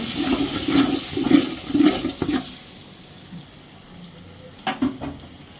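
Water poured into biryani masala frying in a pan, a sudden gurgling, bubbling rush over the sizzle that fades to a softer hiss, followed by a short second splash, close with no voices.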